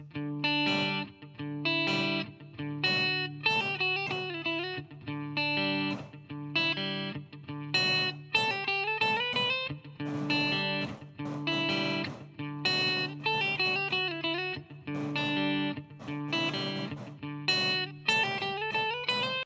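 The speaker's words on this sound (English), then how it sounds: "we created a small little piece of music that is a lot easier to play than that, but has the same techniques" Electric guitar with effects playing a short palm-muted étude riff, chugging muted notes mixed with ringing picked melody lines in a steady repeating pattern, clear and alone.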